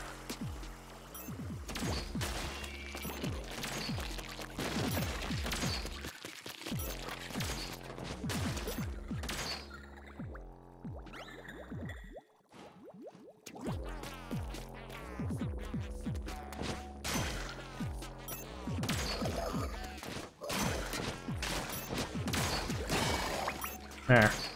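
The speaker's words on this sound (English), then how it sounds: "Why do they shoot at things 6 trillion times?" Rapid bursts of video-game gunfire from Splatoon's Octo Expansion fire nearly nonstop, dense and loud, with a brief lull near the middle before the barrage resumes among game music and effects.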